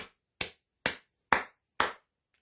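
Hands clap five times, sharp and evenly spaced about half a second apart, each crack dying away quickly into silence in a quiet indoor setting.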